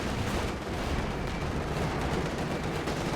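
Dense, continuous gunfire and heavy anti-tank gun blasts from the World War II strategy game Company of Heroes, a loud unbroken roar of overlapping shots and explosions with no pauses.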